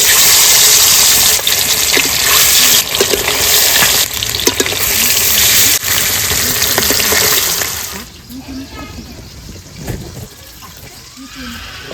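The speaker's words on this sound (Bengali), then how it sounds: "মাছগুলো ভেজে নিচ্ছি" Fish frying in a pan with a loud, dense sizzling hiss for about eight seconds, which then drops to a much quieter, sparser crackle.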